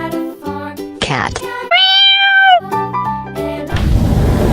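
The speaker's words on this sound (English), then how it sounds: "Cat." A cat meows several times up close, loud and clear, with bright drawn-out cries in a children's farm animal song setting, ending in a burst of broadband noise.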